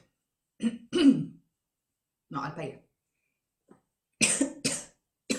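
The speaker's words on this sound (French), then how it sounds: "Pardon, j'espère que je vais pas trop tousser." A few short bursts of throat clearing and coughing, close by, between brief spoken words, with a pause of quiet in the middle.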